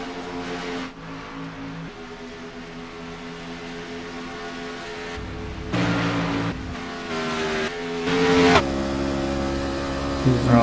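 A race truck engine drones and shifts pitch steadily, with sharp gear changes and rising surges as it accelerates around a track.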